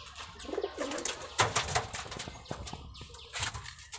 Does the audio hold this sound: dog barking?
no